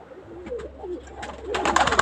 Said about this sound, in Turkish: Mecbur kuşların hepsini çıkardım bir önce gelsin.